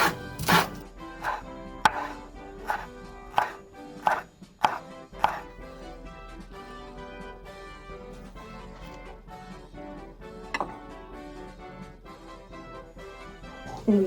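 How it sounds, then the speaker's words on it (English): A knife chopping fresh dill on a cutting board, with a burst of sharp, close thuds in the first few seconds, then lighter, softer cuts and quieter stretches, with no voices. "We're just gonna chop up some dill."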